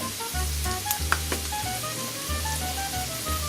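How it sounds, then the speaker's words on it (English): Sloppy joe mixture with a sprinkle of garlic powder sautéing in a pan, a steady close sizzle with crackling pops and faint stirring, no talk. "I'm going to saute that."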